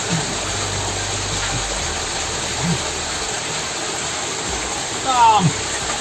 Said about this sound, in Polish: Ten wodospadnik jest cudowny, nie?